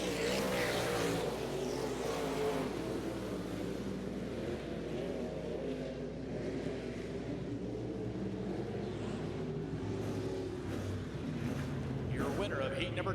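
Dirt Car UMP Modified race cars racing at Jacksonville Speedway, a loud continuous engine roar from the field heard at a distance, under a track announcer talking throughout.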